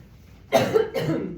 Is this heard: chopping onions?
no